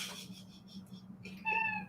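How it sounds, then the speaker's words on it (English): A pet cat gives one clear, close meow near the end, after a stretch of quiet room hum. "You got little kitty demands, Boo-Boo?"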